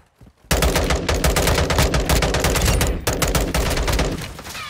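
Sustained automatic gunfire in a Call of Duty DMZ match, loud and dense bursts aimed at the player, starting abruptly after a brief quiet moment and continuing almost without pause.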